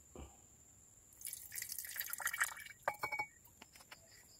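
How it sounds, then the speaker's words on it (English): Nitric acid drips into a small amount of distilled water in a glass vessel during gold and silver refining, giving faint, scattered liquid drips and soft glassy trickles, quiet and close, with no speech. "few amounts of water and add HNO3 or nitric acid"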